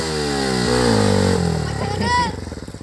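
A motorcycle engine revs up and down ahead of a wheelie stunt, loud and close, the pitch rising and then settling into a pulsing idle, with voices talking over it.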